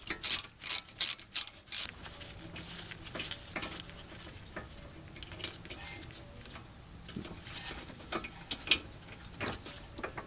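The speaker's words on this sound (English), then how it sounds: "use our T45 Torx Bit to remove that" On a 2002 Mercedes-Benz CLK 430 front brake job, a T45 Torx bit loosens a caliper bolt: a quick burst of loud ratcheting clicks at the start, followed by quieter metallic handling and tool noises, with no talk.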